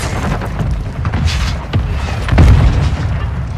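A grenade goes off in a first-person military shooter game, giving a loud deep boom with thuds amid a dense wash of battle noise, the heaviest burst coming near the end.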